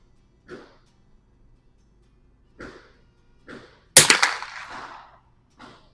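A customized 1896 Schmidt Rubin rifle fires one sharp, loud shot outdoors with a short ringing tail, set among several softer, brief knocks and clicks spread across the clip.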